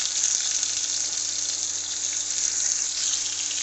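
Chopped onions fry in oil with bay leaf and whole cumin in a pan for mutton curry, giving a steady, close hiss and crackle that holds even throughout.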